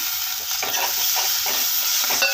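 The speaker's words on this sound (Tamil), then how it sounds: "இப்போ நல்லா வதக்கிடலாம் கருவேப்பிலை சேர்த்துக்கலாம்" Onions with turmeric and curry leaves sauté in oil in a pan for an oil-brinjal kuzhambu, giving a loud, continuous sizzle broken by the scrape and clatter of a spoon stirring, with no voice.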